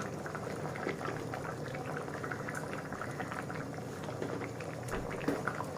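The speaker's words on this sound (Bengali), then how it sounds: "ঝোলটা খুব ভালোভাবে ফুটে গেছে" Gravy for rohu fish kalia with potatoes boils in a pot, a steady, close bubbling and popping with no voices.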